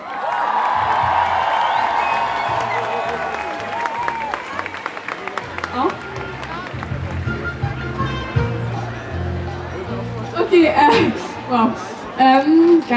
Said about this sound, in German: ich bitte mal um einen großen Applaus für Franzi